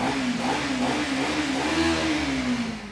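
A stock used Benelli 600i superbike engine revs steadily up close, its pitch rising and falling slightly across a sustained, loud growl with no voices.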